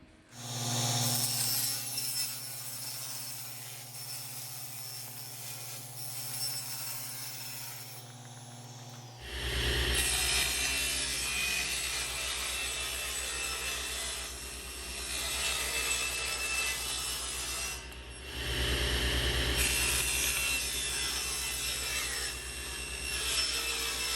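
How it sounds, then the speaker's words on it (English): A handsaw cutting pieces from a wood panel, with long rasping strokes that start faint and become loud and steady after a pause, continuing close up with no talking. "Now from this panel, we got to cut 3 pieces."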